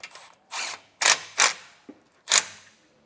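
Ratchet tightening a bolt on a rear air bag suspension bracket during a Pacbrake Alpha HD kit install on a 2025 GMC, heard as four short, close bursts of ratcheting with brief pauses between them and no talk.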